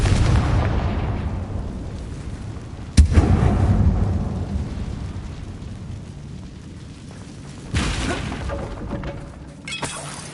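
Confringo blasting spell from Hogwarts Legacy erupting in loud crackling explosions: a sharp burst near three seconds, a rumbling tail, then two more bangs around eight and ten seconds, with no talk.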